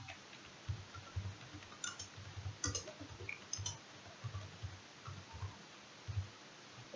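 Typing HTML code on a computer keyboard: soft, irregular key clicks and taps, close but quiet, in uneven bursts over a faint hiss.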